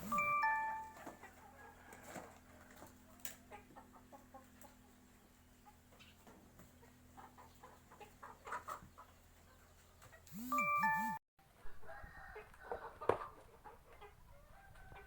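Fighting roosters kept for sale in a free-range flock give scattered clucks and short crowing calls, moderately near and faint, over low steady background hum, with a louder burst near the end.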